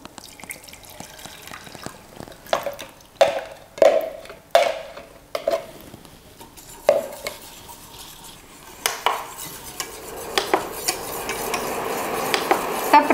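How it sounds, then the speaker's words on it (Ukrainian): A spoon stirring a thickening strawberry cream mixture in a pot on the stove, with irregular scraping and clinking against the metal, close and fairly loud, settling into a continuous bubbling swish toward the end. "Та при постійному помішуванні доводимо до кипіння."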